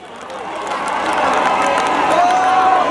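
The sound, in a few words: crowd applauding the honourable guest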